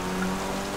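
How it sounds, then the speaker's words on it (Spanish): Steady rain in GTA V, a dense even patter of raindrops on surfaces filling the short moment without pause. "Y además está lloviendo"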